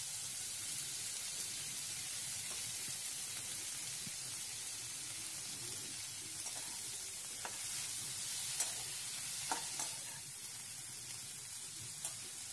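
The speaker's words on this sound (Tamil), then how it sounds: "இது நல்லா வதங்கினோன்னு நம்மளுடைய புதினாவை இதில் சேர்த்து வதக்கணும்." Fresh mint leaves sauté in a pan for tomato chutney, a continuous soft sizzle and hiss with a few faint stirring clicks near the end.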